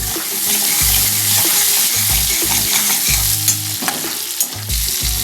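A Bengali mourala fish chorchori with chilli fries in a pan, a steady bright sizzle under rhythmic scraping strokes of a spatula stirring it, close up with no voices.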